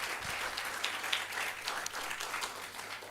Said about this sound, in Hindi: उनके लिए तालियां बजा दो